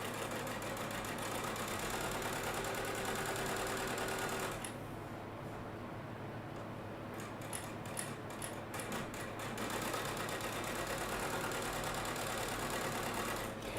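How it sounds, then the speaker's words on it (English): A sewing machine runs a quarter-inch seam in fabric quilt pieces, a steady close mechanical whir that stops briefly midway, gives a few soft clicks, then resumes. "let me just sew these really quick so you can see"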